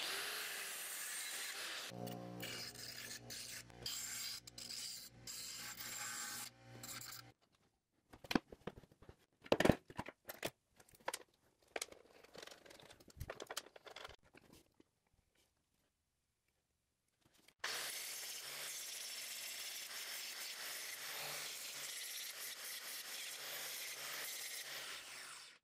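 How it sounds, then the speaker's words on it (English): A metal shaft collar being cut down to size in a workshop, with a steady, loud cutting drone that runs for several seconds, stops for a stretch of scattered clanks and handling noises, then resumes steadily. "I'm gonna go ahead and cut this shaft collar down to size"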